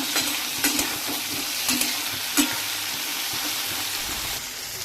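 Food sizzles steadily in a hot pan, and a few sharp scrapes and clinks come from stirring, all close by with no voices.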